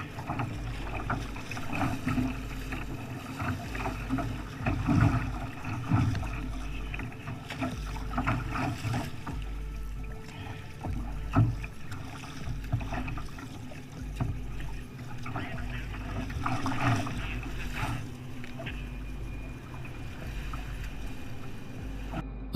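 A kayak pushes into a strong, gusty headwind blowing up to 40 mph, with loud, continuous wind buffeting the microphone and rhythmic paddle-stroke thumps and water noise beneath.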